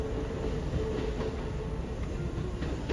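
A Kintetsu train rolls out of Yamato-Saidaiji station, a steady loud rumble of wheels and motors with faint rhythmic clatter over the rails, heard close and continuous.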